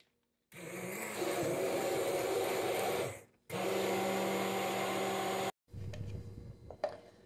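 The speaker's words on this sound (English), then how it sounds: "Immersion blender." A handheld immersion blender whirs loudly through peanut ginger sauce in two long bursts separated by a short pause, followed by quieter clinking and scraping.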